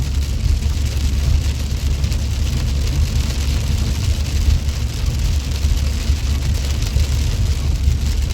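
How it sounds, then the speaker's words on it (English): Steady heavy Texas rain drums on a moving car, heard from inside the cabin as a dense, even hiss over a low road rumble, constant and unbroken throughout with no voices. "Yeah, this is Texas style rain."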